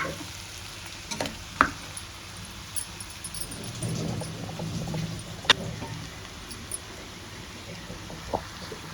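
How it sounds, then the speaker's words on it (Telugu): An eggplant and tomato curry is stirred in a pan, with a soft continuous sizzle, scattered scrapes and a few sharp clinks of the spoon against the pan, all fairly quiet and without talk. "సో నీట్గా కలిపేద్దాము"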